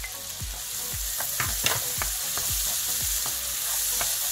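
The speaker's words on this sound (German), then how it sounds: "Jetzt kommen noch unsere restlichen Zwiebeln dazu." Onions and mushrooms sizzle steadily while braising in a pan for a bread dumpling casserole, with a continuous frying hiss and repeated clinks of a utensil stirring against the pan, close and moderately loud, no talking.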